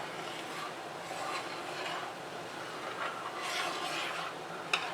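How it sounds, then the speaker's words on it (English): A pot of crabapple jelly churns at a full rolling boil, giving a soft, steady bubbling and seething hiss that swells slightly, with a small sharp tick near the end. "This is what I mean by a full rolling boil."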